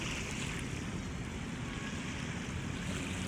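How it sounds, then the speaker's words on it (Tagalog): Sea waves wash in steadily at Manila Bay on a rising tide, a continuous soft surf hiss mixed with wind noise, moderately loud and unbroken, with no voices. "low tide pa, no, pataas pa lang yung ating dagat"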